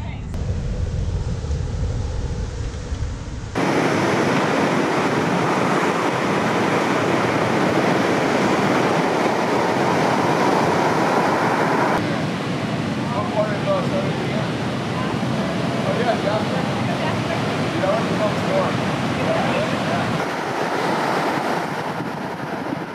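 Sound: ocean waves breaking at North Shore surf spot

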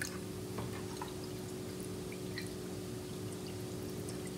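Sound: water pouring into a mini flushing toilet model

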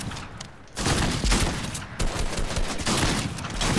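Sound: gunfire in a video game

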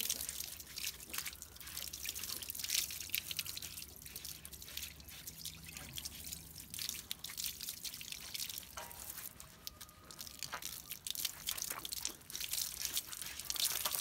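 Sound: water dripping while washing a Cane Corso dog

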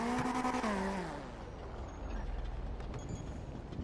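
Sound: vehicle reversing beeps in a video game (GTA V NoPixel)

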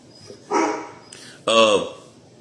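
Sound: dogs barking

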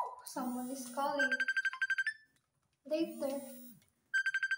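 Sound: phone ringtone, incoming call

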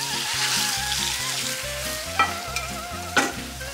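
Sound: searing beef in hot oil in a frying pan

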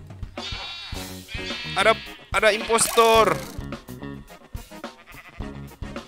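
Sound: sheep bleating under wolf attack in Minecraft video game

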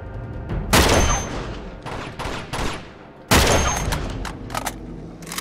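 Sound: gunshots in Uncharted 2 video game

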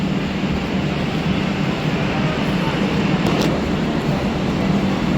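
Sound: train at railway station

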